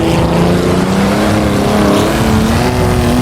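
A loud engine drones steadily with a rising pitch, accompanied by constant rough rattling and buzzing, as a Silver Arrows racing car in a game speeds over cobblestones.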